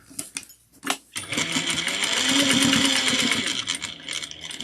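A sewing machine stitches a tote bag. A few short clicks and taps come first, then a steady, close whirring run of stitching lasts several seconds, with no speech over it.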